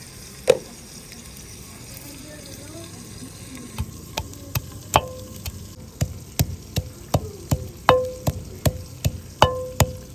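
Spices being roasted in a pan over an open fire, a low sizzle under a run of sharp, evenly spaced clicks and taps that grows busier in the second half, with no clear talk.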